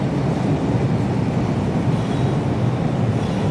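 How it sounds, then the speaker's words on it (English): A train rolls past on a railway beside a fishery, a loud, steady, broadband rumble and roar that holds evenly throughout without pause or talk. "It's the railway, of course."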